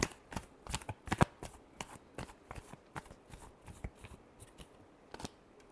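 Tarot cards are shuffled close by in a quick series of crisp riffling flutters and soft slaps, with a few brief pauses in a quiet room.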